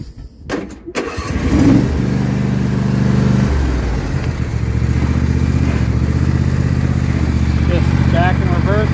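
A John Deere S160 lawn tractor cranks and starts, then its small engine runs steadily with a rough, throbbing idle and slight revving as it begins to drive, close by, with someone talking over it.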